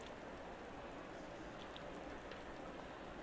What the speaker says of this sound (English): Is it raining harder now, or am I going crazy?